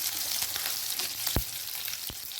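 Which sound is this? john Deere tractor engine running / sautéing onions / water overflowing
sautéing onions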